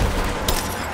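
Gunfire rings out in Rise of the Tomb Raider, one loud sharp burst of shots within a second over a dense noisy game soundscape.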